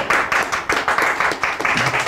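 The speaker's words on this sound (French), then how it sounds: "On l'applaudit." Studio audience clapping for a contestant on a Bible quiz show, a short burst of brisk, rhythmic clapping from a modest crowd, close and fairly loud.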